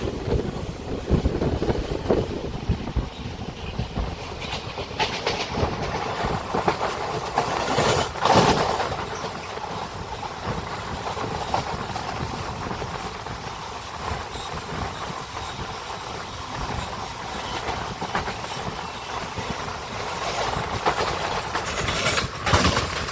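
A direct express passenger train runs steadily on rails on the long route toward Velankanni. Its rumble and clatter hold constant throughout, with wind buffeting the microphone and no voices.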